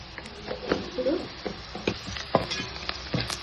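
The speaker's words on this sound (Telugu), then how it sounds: "మిగతాది ఆకులో ఫ్రై అవుతుంది" Ponnaganti greens frying with chickpeas in a pan, a soft sizzle broken by intermittent scraping and stirring clicks, close by, with talk faintly underneath.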